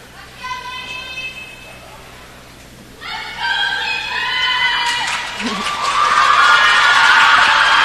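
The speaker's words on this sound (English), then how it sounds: "That makes you feel good. The crowd yelling, calling you out by name." At a cheer performance, a large crowd cheers and yells, with high shouts and whoops rising in waves and swelling into a loud, sustained roar toward the end.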